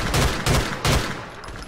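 Shotgun gunfire in Grand Theft Auto with the LCPDFR police mod: three heavy booming blasts in quick succession, loud and close, fading into a lingering tail.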